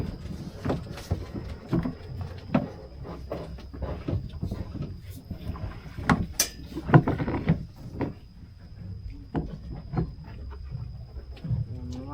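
A rowing boat moves over shallow water while leaving a small island, with repeated wooden knocks and splashes of oars and hull over a low, steady water wash.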